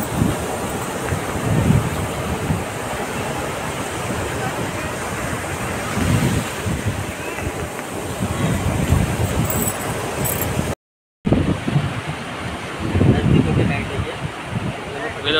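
Waves wash onto the shore at Kalapathar beach in the Andaman Islands while wind buffets the microphone. The surf rolls in a loud, steady swell with a brief dropout near the end.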